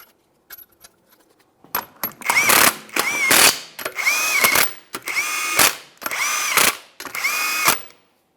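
A torque wrench tightening wheel bolts on a 2008-2017 Mitsubishi Lancer gives a few light taps, then five loud bursts of fast ratcheting, each ending in a ringing metallic click, very close.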